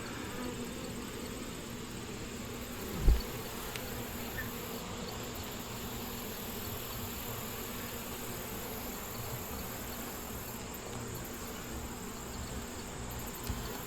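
Honey bees hum steadily around an open, healthy hive during an inspection, a continuous close buzzing drone with one brief knock partway through.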